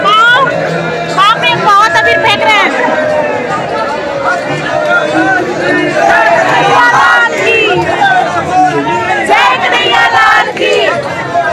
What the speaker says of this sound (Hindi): मंदिर में बहुत ज्यादा भीड़ है